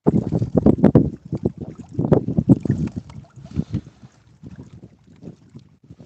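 A fishing boat trolls slowly on Lake of the Woods into a headwind. Gusty wind and water rumble surge and fade in uneven bursts, loudest early on and quieting toward the end, with no one talking.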